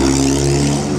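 A Ferrari engine hums loudly and steadily at close range during the Mille Miglia road race, in one short, sustained burst without talking.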